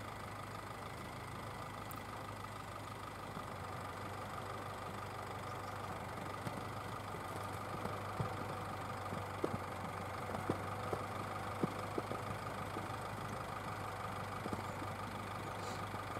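GAZ Sobol 4x4 van engine running steadily at low revs while driving across ice, a quiet, even drone with faint scattered clicks and knocks toward the end.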